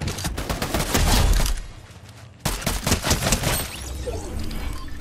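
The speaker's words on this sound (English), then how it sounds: "the gunfire is so loud" Dense bursts of rapid Fortnite video game gunfire crackle almost continuously, loud and close, with a brief pause midway before the volleys resume.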